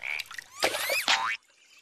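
A cartoon character imitates a frog with a voice, trying to call a swan: a short series of warbling, rising croaks and squeaks lasting about a second, loud and close, ending abruptly into quiet.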